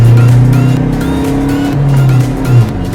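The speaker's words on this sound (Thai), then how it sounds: "เบื้องต้นเกียร์หนึ่งครับ สับสองครับโอ้โหพุ่ง" A 2015 Toyota Revo 2.4 J Plus pickup pulls hard in first gear, then shifts into second as the engine note drops and climbs again; the engine sounds loud and close from inside the cab, with faint tire noise and no talking.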